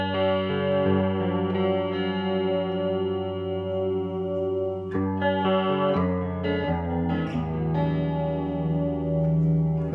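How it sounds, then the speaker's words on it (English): A guitar played through a Roland JC-40 Jazz Chorus amp in fixed-rate chorus mode moves through ringing chords and melodic picked notes, with a steady shimmering wobble throughout. "Now the fixed mode basically gives us a fixed rate chorus that sounds like this."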